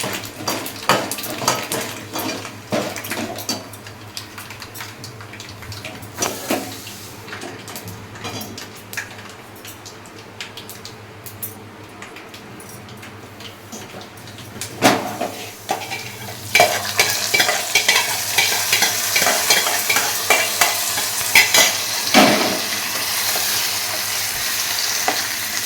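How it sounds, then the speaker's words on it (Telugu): Dried red chillies crackle and sizzle in hot oil for a tempering for daddojanam, with steady frying hiss, stirring and occasional clinks of a utensil against the pan, growing louder and busier toward the end. "ఇవి వేగిపోయినాయి. కట్టేసుకొని ఇందులో తాలింపు వేసేసుకోవాలి."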